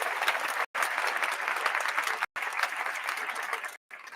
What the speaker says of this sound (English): Let's give Chris Swift a round of applause, man.